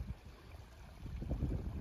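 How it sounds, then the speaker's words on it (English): A mountain stream on the Iceline trail in Yoho trickles and babbles over rocks, a soft, continuous gurgling heard close by but quietly, with no voices. "This nice trickle, babble of water."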